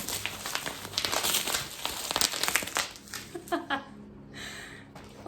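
Crinkling and crumpling of a gift packet's wrapping as it is torn open, steady close rustle for several seconds, then thinning into sparse crackles and a brief pause.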